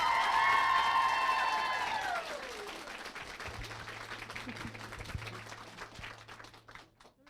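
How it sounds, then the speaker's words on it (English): Audience applause at a book event fills the room, a dense roar of clapping that swells briefly and then tapers off to scattered claps over several seconds. "let's give a huge round of applause for HarperCollins"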